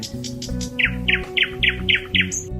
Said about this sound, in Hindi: रामू नाम के एक शख्स ने एक बुलबुल पाल रखी थी। वो बहुत खूबसूरत आवाजें निकालती थी।